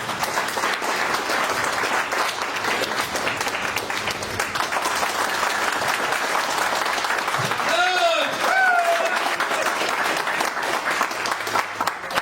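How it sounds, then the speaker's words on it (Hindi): Loud, dense audience applause fills a motivational success seminar hall and keeps going steadily throughout, with a voice briefly cutting in near the end. "जोरदार तालियां आप लोगों की।"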